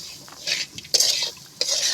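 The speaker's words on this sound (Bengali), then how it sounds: "ডালটা আমি এইভাবে নেড়ে চেড়ে ভালো করে সুন্দর মতো করে আমি কষিয়ে নেব।" Masoor dal is stirred and fried in a pan, with three quick scraping strokes of a utensil against the pan over a faint sizzle.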